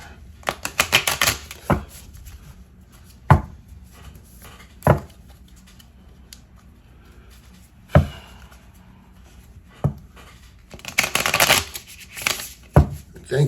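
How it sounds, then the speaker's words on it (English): Tarot cards being shuffled by hand, bursts of riffling and sharp isolated card slaps spaced irregularly, close and crisp with quiet pauses between. "Just shuffle them up a little bit."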